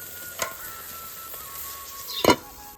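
Shrimp cooking in a pan on the stove, a quiet steady sizzle with a couple of sharp scraping or stirring knocks, one near the start and a louder one near the end, with no one talking.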